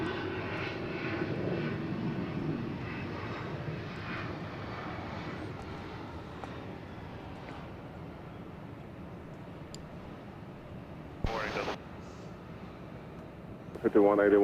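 A Boeing 737 MAX 9 airliner arrives at Atlanta airport, a steady, moderately loud jet roar that slowly fades, with voices talking over it throughout.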